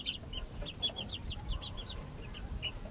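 Gilmore Hatch gamefowl chickens cluck in a quick series of short, high, chirpy calls, fairly close, over a steady low background hum with no talking.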